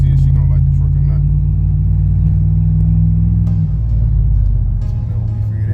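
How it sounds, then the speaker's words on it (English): A truck engine runs loud and close after transmission repairs, a heavy low rumble idling steadily and then shifting in pitch as it revs slightly, with someone talking over it. "the truck running very good"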